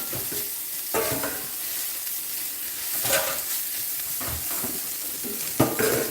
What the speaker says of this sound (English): This is what you call a flash stir fry.